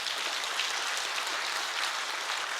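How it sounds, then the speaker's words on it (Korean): Congregation at a Korean church dawn prayer service applauding steadily, a dense, even wash of clapping with no voices on top. "아담을 위해서 박수 좀 쳐주세요"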